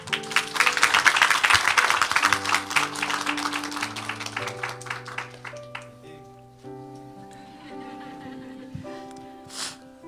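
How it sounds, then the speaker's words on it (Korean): Church congregation at an Easter service applauding after a young member's testimony, a burst of clapping for the first few seconds over sustained organ or keyboard chords, fading as the music carries on alone. "우리 박수 한번 하죠."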